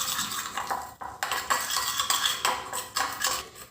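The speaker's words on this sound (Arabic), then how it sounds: "نخلطو مليح التتبيله هذه." Spoon scraping and clinking against a bowl while oil-based tuna marinade is mixed, in quick irregular strokes, close and alone, with no voices.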